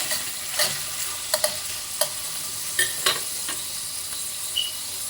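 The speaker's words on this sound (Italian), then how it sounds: "Alziamo la fiamma e mettiamo giù i gamberi." Shrimp frying in a pan over a high flame, a steady close sizzle broken by scattered sharp clicks and pops as they are stirred, with no talking.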